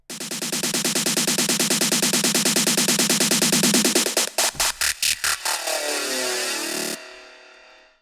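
A rapid stream of processed snare hits through Effectrix and a Volcano filter, stuttering into choppy gated bursts before a filtered, sweeping tail fades out; loud and electronic.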